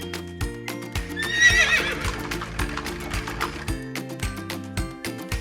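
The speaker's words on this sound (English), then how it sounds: "It's a brown horse." A horse whinnies loudly over a bouncy, cartoonish musical backing, with clip-clop hoofbeats woven through the tune, short and bright.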